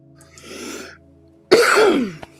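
A person clears their throat and then lets out one harsh, forceful cough close by.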